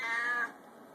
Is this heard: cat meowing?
yes